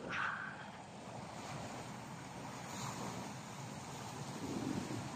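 Strong sea waves along the shore at Tagkawayan, Quezon, a steady broad wash of surf with wind rumble, fairly distant and even, swelling slightly toward the end, with no voices.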